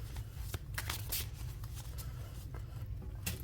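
Tarot cards shuffled by hand, a steady run of riffling and sliding card sounds with a few sharper snaps, close up and without talk.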